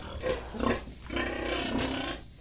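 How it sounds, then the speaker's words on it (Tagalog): A large sow in a backyard pigpen gives a few short, close grunts, a couple of rough bursts followed by a longer low rumbling grunt. "Itong malaking inahin."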